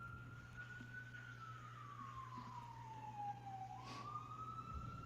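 A distant emergency siren sweeps slowly down in a long wail, then rises again, faint over a constant low hum, with no one speaking.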